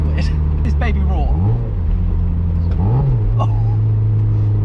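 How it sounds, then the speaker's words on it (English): A 17-year-old project car's engine hums low and steady, rising in two short revs that climb and settle, close by, with someone talking over it. "this car is purring like a bad boy"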